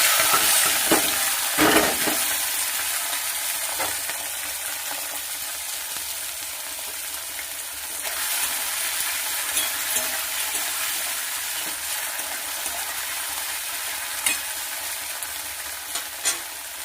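Salted prawns fry in hot oil in a wok for a bottle gourd and prawn dish, giving a steady, loud sizzle throughout with occasional scrapes and clicks of stirring.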